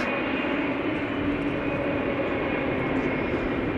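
KLM Boeing 777-300 airliner taxiing at Amsterdam Schiphol Airport, a continuous engine whine and roar with a steady high tone over low rumble, moderately loud and unbroken.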